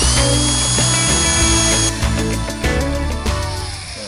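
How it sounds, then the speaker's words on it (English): A loud electric drill grinds steadily into the metal base of a milling machine, its whine shifting in pitch as pressure changes, with no voices. "get it into the drill hole"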